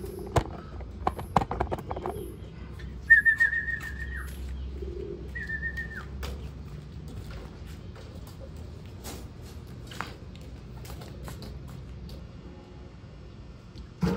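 Racing pigeons arriving at a loft in Lopez, Quezon, after a 144 km race, with soft cooing, a few wing flaps and scattered taps and scuffles close by in an otherwise quiet setting, without talk.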